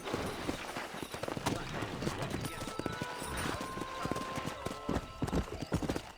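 Horse hooves clip-clop steadily as a rider travels in Red Dead Redemption, with a horse whinnying partway through; someone talks over the hoofbeats throughout.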